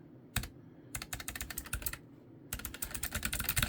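Typing on an Epomaker mechanical keyboard: bursts of quick, clacky keystrokes close to the mic, with two short pauses between runs and no talking.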